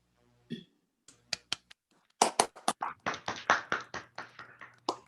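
An online audience at a virtual conference talk unmutes to applaud, giving sparse, scattered handclaps that grow denser into a brief ragged round of clapping before fading.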